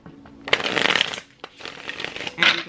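Tarot cards are shuffled close by in two quick riffling bursts with a short pause between them, ending with a final crisp flutter.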